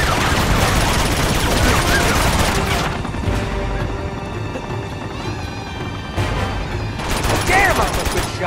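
Gunfire in Uncharted 2: Among Thieves, rapid volleys of shots and automatic fire with booming impacts. Dense at the start, thinner in the middle, then heavy again near the end, with voices talking under the shooting.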